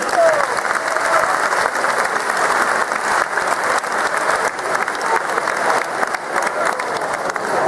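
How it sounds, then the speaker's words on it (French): A live audience applauds steadily for about eight seconds after two partners are introduced on stage, a dense, loud wash of clapping with a little crowd murmur underneath. "Vous pouvez les applaudir."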